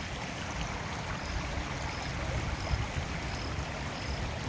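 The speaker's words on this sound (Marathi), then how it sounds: "असं खळाखळ वाहताना आपल्याला दिसते" Steady rushing floodwater flows continuously through fields after torrential May rain, a broad churning roar with no pauses, moderately loud and close, with no voices.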